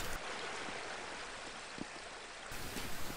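Waterfall in the game Half-Life: Blue Shift, a steady, even hiss of rushing water at moderate level with no voices.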